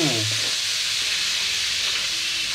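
A brinjal fry with tomatoes cooks in a pan with a loud, continuous sizzling hiss. A brief voice fragment is heard at the very start.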